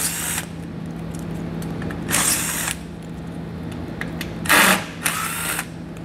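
A power driver whirs in several short bursts while backing out four T15 Torx screws from the front fascia of a 2020 vehicle, loud and close against a low steady hum, with no speech.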